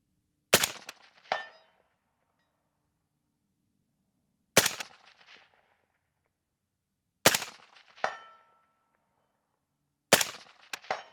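Rifle fitted with a WOOX Vigilante stock fires from a bench at a ridgetop range: four sharp, loud shots spaced a few seconds apart, each followed by a quick metallic action clack and a short outdoor echo, with silence between.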